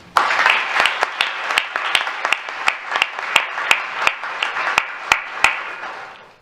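An audience at a school board meeting breaks into applause and cheering, with sharp close claps punctuating a continuous round of clapping that fades out at the end.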